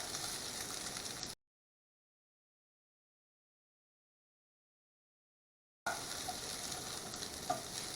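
Onions and vegetables fry in a pan for a casserole, making an even, soft sizzle that cuts out into a long silent gap before the frying returns.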